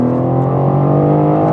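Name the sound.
BMW M4 CSL engine revving while downshifting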